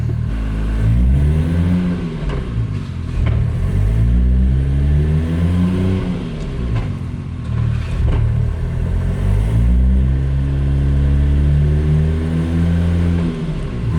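A twin-turbo JDM sleeper car, just swapped from automatic to a five-speed manual, drives with a loud continuous engine drone, rising and falling through repeated revs and gear changes heard from inside the cabin.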